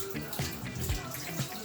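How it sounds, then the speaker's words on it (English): Irish sea moss from St. Thomas, Jamaica, getting a final rinse under a running tap, with a steady splashing water stream close by and a few louder gushes. No one speaks. "It's a final rinse."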